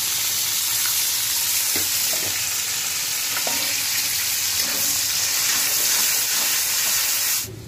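Chopped onions fry in a pan for a chitol fish curry, giving a loud, continuous sizzling hiss with a few soft stirring scrapes, then cutting off abruptly at the end.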